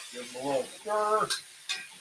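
A stir-fry of green onions and dried cayenne pepper is stirred in a wok over a wood stove, with brief scraping squeals and soft sizzling in a few quick strokes.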